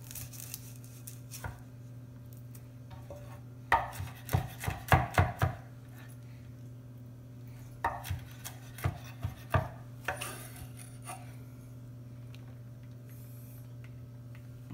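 Garlic chopped with a knife on a board, bursts of quick, crisp, close chops separated by pauses, over a low steady background hum.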